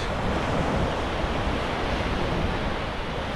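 Surf washes onto Hac Sá, the black sand beach in Coloane, Macau, as a steady, dense roar of breaking waves mixed with wind buffeting the microphone.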